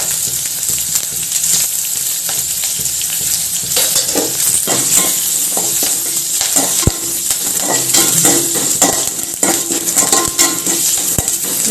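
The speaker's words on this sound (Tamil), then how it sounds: "அடுத்தது 2 காஞ்ச மிளகாய் கிள்ளி வச்சுருக்கேன், 2 பச்சை மிளகாய். அதுக்கப்புறம் கருவேப்பிலை." Dried red chillies, green chillies and curry leaves sputter in hot oil for a fenugreek rasam, a loud crackling sizzle broken by frequent clattering stirs and spoon knocks against the pan.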